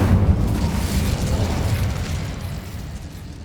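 Incendio fire spell cast in Hogwarts Legacy, a loud, close burst of roaring flame with a deep rumbling body that slowly fades over a few seconds.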